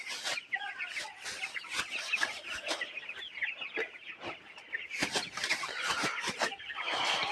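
Poultry-farm chickens cluck and chatter continuously at close range, overlapping calls forming a busy, steady din with sharp individual clucks rising throughout.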